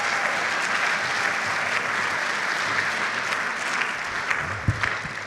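Audience applause at a graduation commencement, a loud, dense, sustained wash of clapping from a large crowd that holds steady and eases slightly near the end, with a few low thumps.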